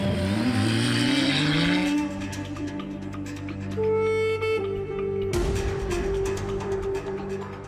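Dacia Sandriders rally car on a Dakar-style desert special stage, its engine revving hard and shifting through gears, loud and close throughout with sustained mid-range drone and rising pitch sweeps.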